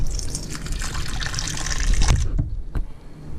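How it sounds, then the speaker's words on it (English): Poland Spring bottled water poured into flour for homemade pasta dough, a close gushing splash that builds, then breaks off into a few dull knocks and handling sounds. "I try to pour the water and hold the camera"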